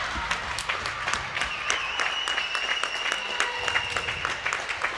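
Spectators at a floorball match between ESV Schwerin and VfK 01 Berlin applaud after a goal, a steady crackle of many hands clapping fairly close, with a whistle-like tone running faintly underneath.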